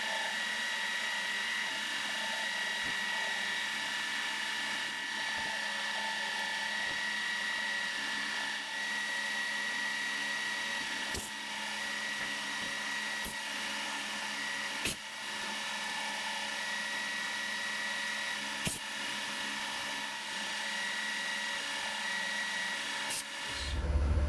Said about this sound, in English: just drill and tap them now.